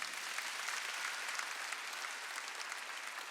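A Korean church congregation at a Sunday worship service claps together in a dense, sustained wash of applause that stays fairly soft and even throughout, with no voices standing out.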